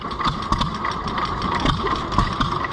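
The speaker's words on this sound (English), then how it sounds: "We've got our new to me Fuller & Johnson farm pump engine" A Fuller & Johnson farm pump engine running at a fair, a steady close mechanical chug with a rhythmic pulsing beat and a constant droning hum throughout.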